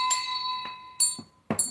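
A notification bell chime rings in short bright metallic strikes, three quick tones within under two seconds, heard alone.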